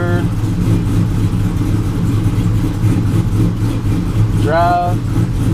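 A Chevrolet Trailblazer SS engine idles steadily with a low, even rumble while the rebuilt transmission is shifted through its gears with the brake held; a short chirp rises briefly near the end.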